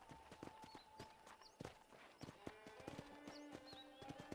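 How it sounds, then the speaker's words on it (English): A horse in the Red Dead Redemption video game clip-clops along at a steady gait, its hooves knocking in a clear repeating rhythm, faint but distinct, with occasional music tones underneath. "let's see if you can still ride a horse."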